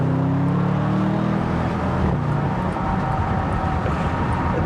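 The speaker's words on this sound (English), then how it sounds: "You can hear that growl of the engine. Put it in sports mode right now. It opens up that exhaust a little bit more." A 2022 Bentley Continental GT V-8 convertible in sports mode gives a steady, close exhaust growl with a deep rumble that holds for a few seconds, then thins into a rougher, broadband roar, with no talking over it.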